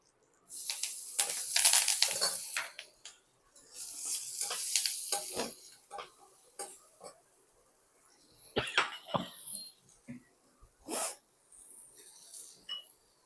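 A small piece of chili and curry leaves dropped into hot oil for tempering, giving several bursts of crackling sizzle and spitting, separated by quiet pauses, close and moderately loud, with no talk.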